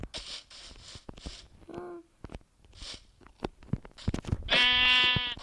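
A harmonic sheep bleat from a survival video game rings out near the end, preceded by short game-like tones, clicks and brief bursts of noise.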